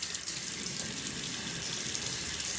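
A bathroom tap runs steadily into a sink during handwashing, a continuous close hiss and splash of water with no talking.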